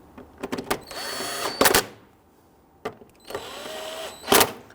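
A power tool snugs down two 10mm bolts on the power steering tank of a 2008-2013 Infiniti G37, two close, whirring bursts of about a second each, separated by a short pause and scattered clicks.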